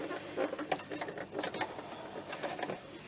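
A sewing machine stitching cloth in a short, fast mechanical run, its needle patter whirring steadily up close with no talking.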